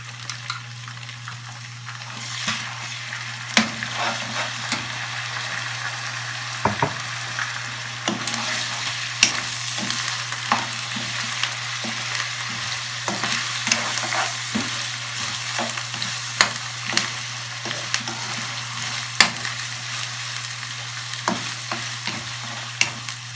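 Chicken pieces frying in a karahi for charsi chicken karahi, a soft steady sizzle broken by frequent sharp stirring scrapes and taps of a utensil, with a low constant hum from a stove or fan underneath.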